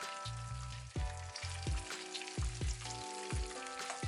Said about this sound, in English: scoop them one by one into the hot oil like so and fry them